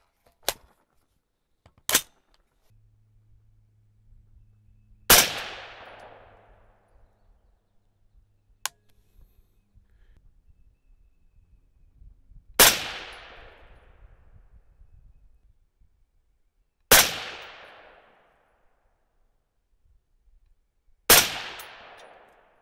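A 6.5 Creedmoor rifle firing 130-grain Berger Hybrid handloads fires five sharp, loud shots spaced several seconds apart, each with a ringing decay, amid quiet handling noises and faint low hum between shots.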